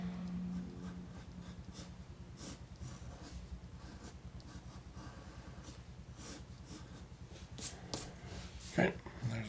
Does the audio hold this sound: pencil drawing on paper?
yes